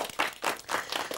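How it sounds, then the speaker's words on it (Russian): Brief applause from an audience at a televised quiz game, a few soft rhythmic swells of clapping, fairly faint and short. "Аплодисменты."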